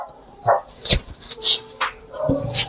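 A dog barks and yips several times at close range, short sharp bursts with whimpering tones between them, in a lively, uneven rhythm.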